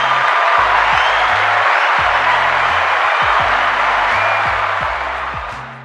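An applause sound effect on a talk show: a sustained wash of dense clapping runs loud throughout, with a low, beat-like tone pulsing beneath it, then eases slightly near the end.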